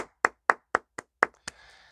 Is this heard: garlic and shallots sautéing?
no